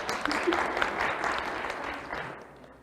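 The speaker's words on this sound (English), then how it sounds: "If you guys want to give her a round of applause" A crowd applauding steadily, a dense wash of clapping that holds for a couple of seconds and then begins to thin and fade out.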